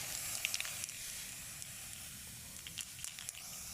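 Aerosol spray can hissing in short bursts, faint and close, over a low background rumble, with a few brief sputters as the can runs nearly empty.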